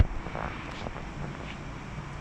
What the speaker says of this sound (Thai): ครับรถไถนั่งขับนะครับ